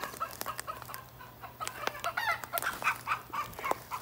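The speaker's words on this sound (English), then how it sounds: "Oh, chickens." Chickens cluck in a home garden with sunflowers and fruit plants: a steady run of short, sharp clucks and calls at moderate volume, repeating irregularly over a faint background hum.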